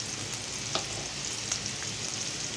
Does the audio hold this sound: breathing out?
no